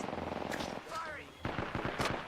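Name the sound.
gunfire in a shooter video game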